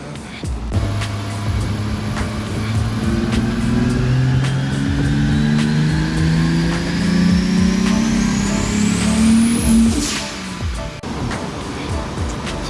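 A turbocharged car engine runs hard on a dyno, a loud sustained drone whose pitch climbs steadily through a long pull before cutting off sharply near the end, with a rising turbo whine over it.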